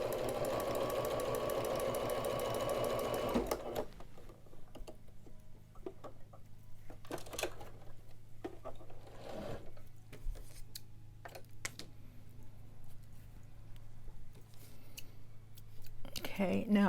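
A sewing machine stitches a cloth COVID face mask, giving a steady motorized whir for a few seconds before stopping, followed by sparse clicks, ticks and quiet handling with talk.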